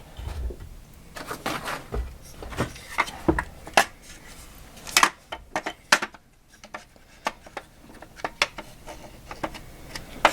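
Sharp metallic clicks and taps as a trigger assembly fitted with a drop-in spring kit is pushed back into a CZ Scorpion EVO 3, irregular close handling knocks spread across the whole stretch, no talking.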